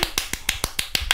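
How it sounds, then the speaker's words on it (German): Short applause after a random party: eight sharp, evenly spaced claps or snaps in quick rhythm, close and distinct, with no voices. "Ein kurzer Applaus."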